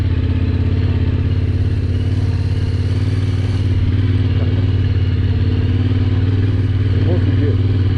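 A motorcycle rides along a road in Norway, its engine a steady, close mid-pitched drone with constant wind and road rumble throughout and no clear gear changes.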